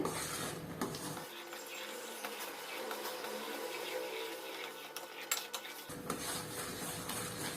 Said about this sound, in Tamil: ஸ்டவ்வை சிம்ல வச்சுட்டு இந்த மாதிரி கிண்டி விட்டுட்டே இருங்க, இல்லைன்னா மேல தெரிக்கும்.